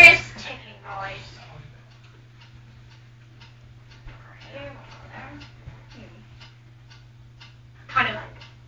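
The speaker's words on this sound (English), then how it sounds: "What is that mysterious ticking noise?" A faint, regular mechanical ticking that keeps a steady beat under a low constant hum, with brief bursts of voices breaking in at the start and near the end.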